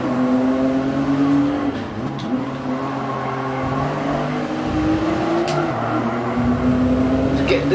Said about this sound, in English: Get this GR Yaris going.